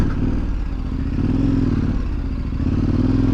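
KTM 1190 Adventure motorcycle being ridden, its engine droning loud and close with a steady low throb and slight clattery texture, holding roughly constant revs throughout without speech.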